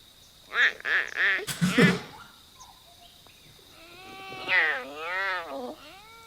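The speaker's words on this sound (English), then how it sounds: "Clouded leopards can't do either, instead they do this." A clouded leopard's series of chirping, bleating calls with rising and falling pitch, a short burst early, then wavering warbling cries, fairly close with quiet pauses between.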